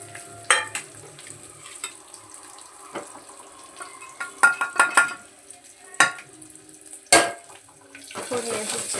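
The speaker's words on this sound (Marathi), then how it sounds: "फोडणी अशी छान हलवू द्यायची, एकजीव होईपर्यंत हलवायचं।" Garlic, curry leaves and turmeric sizzle and hiss in hot oil while a spoon scrapes and clatters against the pan, stirring the tempering in uneven bursts, close by and alone without talk.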